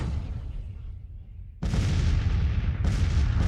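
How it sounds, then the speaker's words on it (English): Massed artillery guns in a Civil War strategy game at Gettysburg open fire in heavy, rumbling booms, a quieter stretch giving way to a sudden loud sustained barrage that swells again near the end, with no talk. "Every gun is opened up right now."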